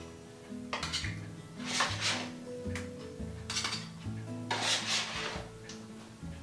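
Pork chops being moved from the cooking pan into a small pan in a home kitchen, with repeated metallic scrapes, clinks and utensil clatter over a steady hum, close and moderately loud.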